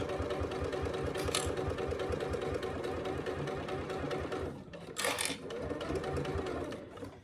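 A domestic sewing machine runs a steady, rapid stitching whir while sewing the curved seam of a hobo bag, pausing briefly near the end before starting again, close and without talk.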